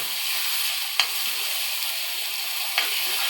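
A ground paste of tomato, ginger, garlic, raw onion and fresh coconut frying in oil, sizzling in a steady bright hiss, with two brief stirring scrapes.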